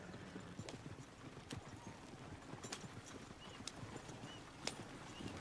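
Horse hooves clip-clopping in a video game, a faint, steady run of hoofbeats with soft background noise.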